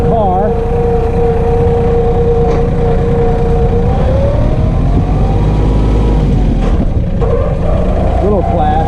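A New Holland Workmaster 25 compact tractor drives on a woodland test run, its diesel engine a loud, steady low drone close by that rises slightly mid-way, while someone talks over it.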